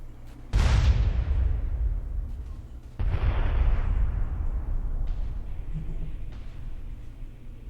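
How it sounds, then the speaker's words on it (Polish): Two loud bomb detonations in the GTA San Andreas video game, a first blast near the start and a second about two seconds later, each with a long rumbling decay and no talk over them. "Detonuj, dawaj. I detonacja."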